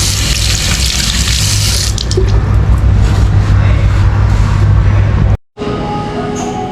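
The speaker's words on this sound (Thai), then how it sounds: "ผมล้างมืออย่างเดียว" Hands washed under a running tap in a cafe restroom, a loud steady gush of water splashing into the sink, cutting off briefly near the end before resuming more quietly.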